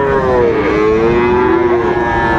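A loud, close, drawn-out moo from Sahiwal cattle at a livestock market in Dinajpur, with a wavering pitch, clear over faint background noise.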